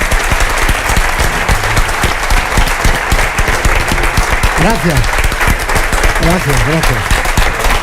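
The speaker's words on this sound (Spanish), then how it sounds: "Pueden ustedes decirlo con su aplauso." Steady audience applause fills the clip at a tribute event honouring a filmmaker, dense and loud throughout, while someone speaks briefly over it.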